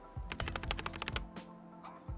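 Typing on an Epomaker keyboard with Hall effect magnetic switches: a fast, close burst of soft, muted keystrokes followed by a few isolated presses, quiet and without talk.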